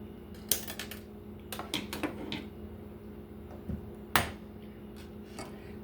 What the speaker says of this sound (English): we'll cut a piece of ground wire so we can hook it up to our ground screw